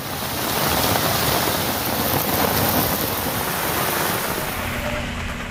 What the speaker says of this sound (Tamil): இடி மின்னலுடன் கூடிய கனமழை பெய்தது